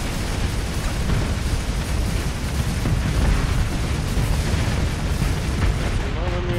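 A mule-class ship blows up in the space combat game Starsector, a dense, sustained rumble of blasts and booms filling the whole stretch at steady loudness, with battle noise layered throughout.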